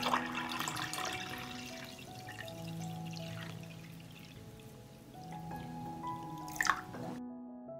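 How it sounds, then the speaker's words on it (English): Water poured into a pot holding glass jars on a cloth, a steady close splash and trickle with drips and a brief clink near the end before it stops. "I will pour water up to the height of the lid."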